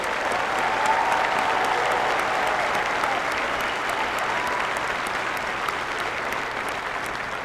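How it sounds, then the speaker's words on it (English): At a university winter commencement ceremony, a large audience applauds the graduates in a broad, steady roar of clapping that carries on evenly throughout, spacious and slightly distant, with faint crowd murmur mixed in. "Let's all start with a round of applause for all of today's graduates."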